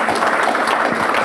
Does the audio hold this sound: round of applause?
yes